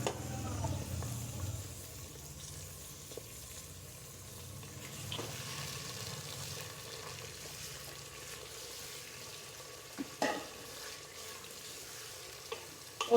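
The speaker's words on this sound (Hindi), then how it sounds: "और इसे थोड़ी देर भूनना है।" Chicken pieces fry with onions in a pot for haleem, giving a soft steady sizzle with occasional scraping stirs and a few louder clinks of the spoon near the end, no voices over it.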